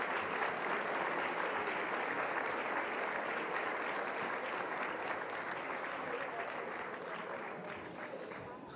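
An audience applauds actress Nasrin Nosrati at a tribute ceremony, with dense, sustained clapping that stays loud and fades slightly near the end.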